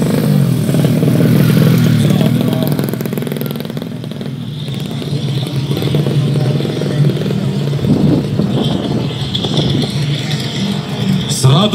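A 130cc four-stroke underbone motorcycle at a 2019 drag race in Sumenep roars loudly and close, its engine droning and revving throughout while an announcer talks over it.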